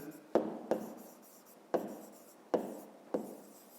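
A pen moves across paper while a fifth-grade math exercise is worked out, with five or six crisp tapping strokes at uneven intervals, close and quiet.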